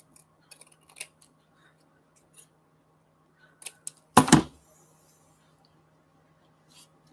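Scissors cut paper for a nature art journal in one quick crisp snip midway through, preceded by a few faint taps and rustles in an otherwise quiet room.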